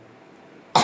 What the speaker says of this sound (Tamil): என் பொண்டாட்டி இருமுறா